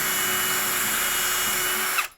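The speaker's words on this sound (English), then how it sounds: "I'm going to take a small drill bit and go about right here." A power drill fitted with a small bit bores into plywood, a continuous close high-pitched whine with a steady grinding tone that cuts off abruptly at the end.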